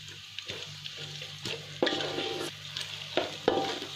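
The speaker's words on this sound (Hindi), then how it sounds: "उसके बाद इसमें डालेंगे नारियल, इसको भी 2 मिनट फ्राई कर लेंगे।" Coconut frying in a pan on medium flame for sweet zarda rice, with a soft continuous sizzle broken by several sharp spoon scrapes and stirs at close range, alone without speech.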